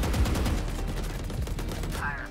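Gunfire in a video game shooter: dense bursts of shots and rapid fire fill the whole span at steady loudness, with a brief tonal game effect near the end.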